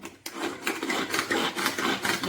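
Chopper chopping curry leaves, a steady, close, rasping whir with rhythmic scraping pulses from start to finish after a brief silent moment.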